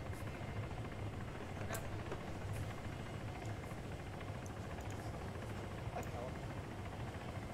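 Helicopter in a military video game carrying civilians out, a steady whirring rotor drone with a low pulsing beat that runs unbroken at an even level. Voices may be talking over it.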